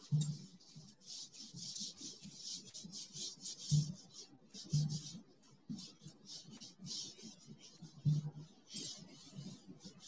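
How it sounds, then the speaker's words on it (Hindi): Writing is rubbed off a classroom board, with quick repeated scrubbing strokes in irregular bursts, close and fairly quiet with short pauses between passes and no talk over it. "so I am going to rub this one"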